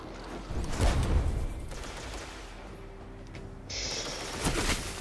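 Hand cannon shots in the video game Destiny 2, a few sharp low-heavy reports near the start and again toward the end over steady game ambience, with no talk.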